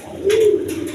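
A pair of big-sized king pigeons giving a single soft, low coo, close by and alone over faint background noise.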